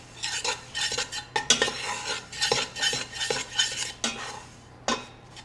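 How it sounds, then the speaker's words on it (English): A utensil stirs butter and flour as they cook in a pan for a roux, making steady scraping and clinking against the pan with a faint sizzle underneath, and no voices. "So I'm melting my butter and cooking the flour."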